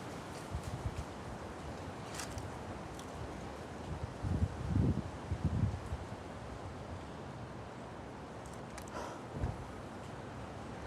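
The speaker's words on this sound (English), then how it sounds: "It's pretty windy, man." Wind buffets outdoors in soft, low gusty rumbles that swell briefly mid-way, fairly quiet overall with faint rustling and no talk.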